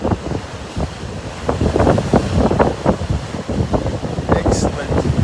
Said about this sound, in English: Because it's really windy here.